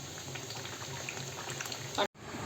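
Steady bubbling of a pot of spicy patwadi curry at a rolling boil, a continuous wet simmering texture throughout, cut off abruptly near the end.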